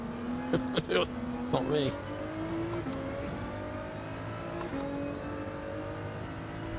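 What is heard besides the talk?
red Ferrari race car passing in Gran Turismo 7 (video game)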